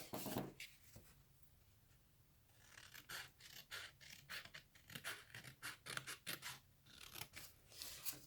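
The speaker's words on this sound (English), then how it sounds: "So I cut the bottom of the left-hand section." Scissors cut paper for a double envelope pocket, making close, crisp snipping and rasping strokes in an irregular rhythm, with a rustle at the start and quiet pauses between cuts.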